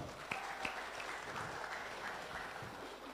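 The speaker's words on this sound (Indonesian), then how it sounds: "kita beri aplaus pasangan calon" Audience applause for three pairs of regency election candidates at a public debate in a hall, a steady wash of clapping lasting the full span with a few sharper claps near the start.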